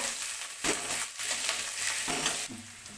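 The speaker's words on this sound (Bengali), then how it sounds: "আমি এতে গাজর আলু ফুলকপি কাঁচা লঙ্কা দিয়েছি দিয়ে আমি একটু নাড়বো" Carrot, potato, cauliflower and green chilli stirred in a frying pan for chira pulao, a steady close sizzle broken by several scraping stirs of a spatula, with no voices.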